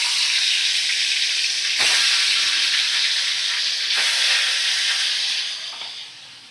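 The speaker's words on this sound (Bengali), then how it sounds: "আমি দেখো ভেটকি মাছগুলোকে আমি ভাজা করে নেব।" Bhetki fish pieces fry in very hot oil in a wok over a medium-to-high flame, giving a loud, continuous sizzle and hiss with a few crackles, easing off near the end.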